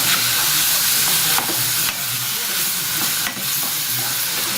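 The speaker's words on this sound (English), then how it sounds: "He's going to give that a quick stir also." Vegetables sizzle loudly in a hot pan, seasoned with black pepper and soy sauce, with a constant frying hiss broken by a few sharp scraping stirs, close and without voices.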